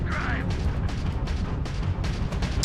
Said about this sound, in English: mouse 2 to fire the ballistic cannon